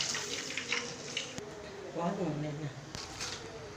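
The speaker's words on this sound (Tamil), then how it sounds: "முந்நூறு கிராம் ரவை போட்டிருக்கேன் அதுக்கு ஒரு நானூறு கிராம் தண்ணி ஊற்றுவேன்" Water is poured into a pot for cooking semolina (rava) at breakfast in a home kitchen, a quiet splashing trickle heard under someone speaking Tamil.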